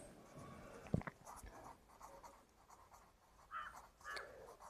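Faint pen strokes on paper while working a class 10 maths solution by hand, quiet scratchy writing with a soft tap near the start, low and close.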